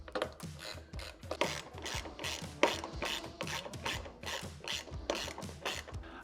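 Ratchet wrench tightening bolts on a Prinsu Pro roof rack atop a 2nd gen Toyota Sequoia, rapid close clicking pawl strokes in repeated bursts with short pauses between.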